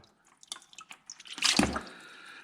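Water dripping from a John Deere B tractor engine during a rebuild, falling in a series of small, close, irregular drips followed by a short louder splashing trickle that fades to a faint drip.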